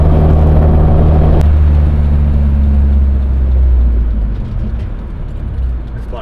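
Nissan S14 car driving, a loud close engine drone with low steady tones that shift and fade as it moves along, a brief sharp sound early on.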